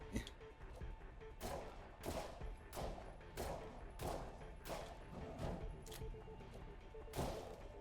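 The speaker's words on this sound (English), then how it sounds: "I'm just going to use the shotgun" Shotgun blasts in the horror game You Will Die Here Tonight, a rapid series of about a dozen heavy, booming shots firing at irregular intervals over a quiet background.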